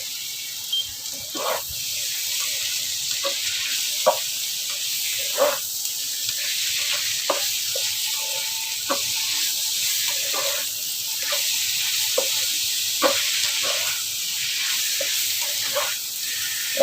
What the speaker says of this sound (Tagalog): Ilagay na natin yung pork